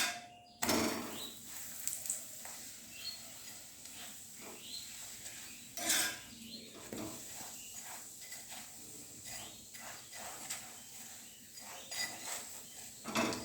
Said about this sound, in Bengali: দেখো ঘি দিলাম, ঘি দিয়ে ভাজলাম। দেখো আবার ভাজছি